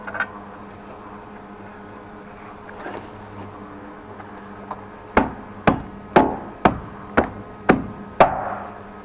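A hammer strikes eight times in a steady rhythm, sharp and close, after a few seconds of quiet buzzing background.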